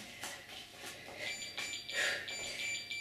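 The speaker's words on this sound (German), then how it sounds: "Und es piepst." An electronic workout timer beeps at the end of an at-home upper-body session, giving faint, thin, high-pitched repeated tones over low background noise.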